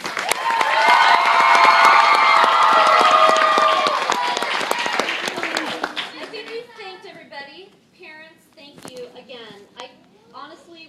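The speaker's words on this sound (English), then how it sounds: "Please, everybody give her a huge round of applause." Audience applause and cheering after a Newsies show performance, loud and full for several seconds before fading, followed by a speaker talking over scattered claps.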